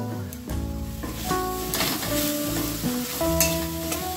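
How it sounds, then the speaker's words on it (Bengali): Jaggery being stirred into kul (jujube) chutney in a pan, a steady close scraping and bubbling sizzle with a low hum running under it, no voices. "গুড় দিয়ে আমি গুড়টাকে ভালো করে ফুলের সাথে মিশিয়ে নেব"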